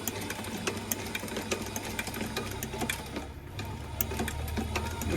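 A machine stitching a split vamp on a Loake 1880 leather brogue shoe runs with a steady, close mechanical whirring and rhythmic needle ticking throughout.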